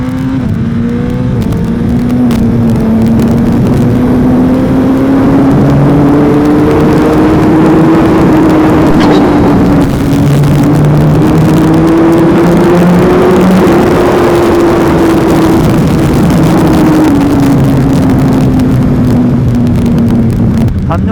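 Suzuki GSX-R1000R sport motorcycle accelerating hard in second gear: a loud, close, continuous engine wail that climbs and levels in pitch, with heavy wind rush over the microphone.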